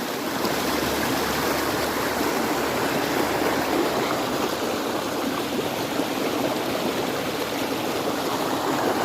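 Steady, continuous rush of a waterfall at a picnic spot in Gochhapada, Kandhamal, a dense broadband roar holding even and close for the whole stretch with no voices over it.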